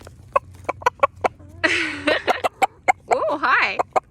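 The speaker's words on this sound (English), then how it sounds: "we wanted to show you guys the chickens because they are growing up" Young backyard chickens cluck close by in a series of sharp, evenly spaced clucks, broken by longer squawking calls, with people talking softly nearby.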